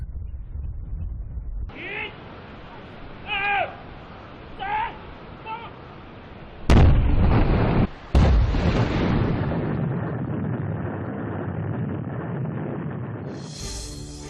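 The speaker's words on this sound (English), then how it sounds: "This type of blast only makes cracks in the rock without blowing pieces into the air" A controlled explosive blast loosens rock on a slope beside the Karakoram Highway. Two sharp, loud booms arrive a second apart, each followed by a long, rumbling roar that fades slowly, after a few short sounds that may be voices.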